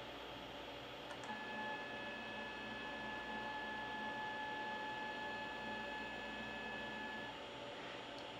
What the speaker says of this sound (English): I'm going to try to extrude here